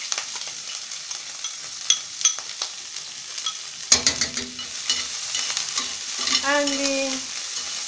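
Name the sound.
red herring frying in hot oil in a frying pan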